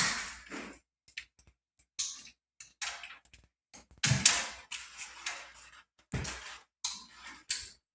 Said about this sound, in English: So let me cut off the excess here.